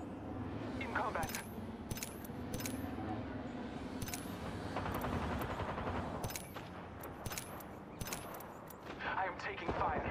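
Bursts of rapid gunfire crack through an Apex Legends match, mixed with repeated single shots, clinks and mechanical rattles over busy game ambience, with voices talking intermittently underneath.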